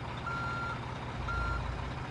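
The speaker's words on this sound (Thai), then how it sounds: "ถอยหลังก่อนปึ๊บปึ๊บปึ๊บปึ๊บปึ๊บปึ๊บปึ๊บ" A truck backing up in the driving game Drive Simulator 2 gives two evenly spaced reversing beeps over a low, steady engine rumble, with no talking.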